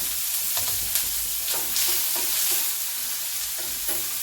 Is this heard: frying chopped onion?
yes